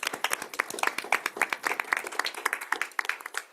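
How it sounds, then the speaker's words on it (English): A round of applause for summer graduates at a Roanoke City school board meeting, a smaller group clapping with distinct individual hand claps in a fairly quick, uneven rhythm. "let's give our summer graduates another round of applause"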